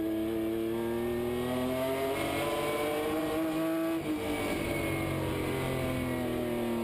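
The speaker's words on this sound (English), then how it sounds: "You can hear Mansfield get out of the gas into turn 1, not really using a lot of brake" Onboard engine of a race truck at Lorain County Speedway, a loud steady drone of harmonics that dips briefly as the driver lifts off the throttle into turn one, then carries on, with no talk.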